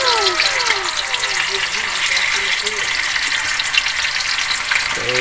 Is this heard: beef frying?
yes